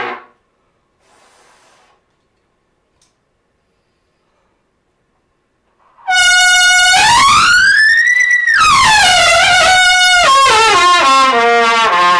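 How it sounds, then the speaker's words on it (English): After several seconds of near silence, a loud, harsh blaring horn erupts and wavers in pitch, sustained and piercing for several seconds. "let me honk a little bit"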